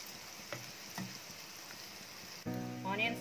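Onions frying in hot oil until golden brown for hariyali chicken, a faint steady sizzle with a few soft stirring knocks, then a louder burst of frying near the end.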